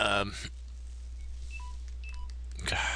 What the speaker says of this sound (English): my phone keeps beeping